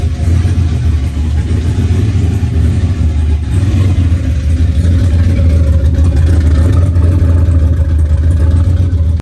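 A turbocharged Foxbody car's engine runs loud and close, a deep steady rumble with light clatter and small swells in revs throughout, with no talking over it.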